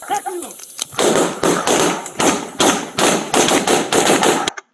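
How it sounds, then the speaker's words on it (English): A voice shouts briefly, then a rapid series of loud, close gunshots from a police shootout in San Antonio, captured on home surveillance video, cracks out in irregular bursts for several seconds before cutting off abruptly. "Here is another view of the exchange of gunfire from home surveillance video"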